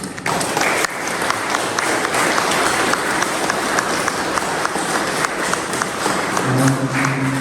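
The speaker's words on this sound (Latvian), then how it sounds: "Domāju, ka aplausu tiem, kas darbus vadīja, tiem, kas bija dāsni, un arī mums visiem šajos lielos svētkos." A church congregation at a feast-day service for Saints Peter and Paul bursts into sustained applause, loud and continuous across the whole stretch, with a few brief voices underneath near the end.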